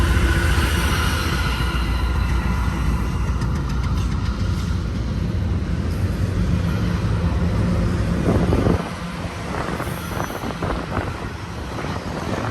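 A westbound freight train led by a Dash 9 locomotive, a port stack of empty containers on main track 3 at Cajon Pass, rolls past with a loud, continuous low rumble that drops off sharply near the end.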